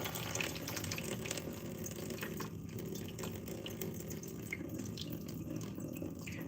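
Water trickles slowly and steadily off milk kefir grains as it is poured out, a soft continuous wash of liquid with faint splashes and no talking.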